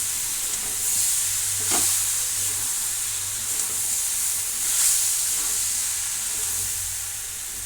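A curry hisses and sizzles steadily in oil in a pan, with a few soft stirring scrapes over the continuous frying noise and no talking.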